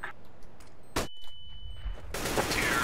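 Gunfire in the video game CS:GO on the map de_dust2, with a sharp shot burst followed by a ringing tone, then a louder, noisy stretch of rapid firing near the end.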